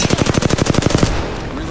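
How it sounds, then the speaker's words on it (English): Rapid automatic gunfire from the battle royale game Apex Legends, a fast steady burst of about a dozen loud close shots that stops abruptly, followed by a brief quieter tail. "Getting shot at."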